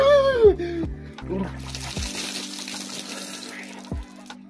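Hair is rinsed under running water while bathing: a sustained splashing, gushing wash follows a few opening tonal sounds, with occasional sharp knocks in between.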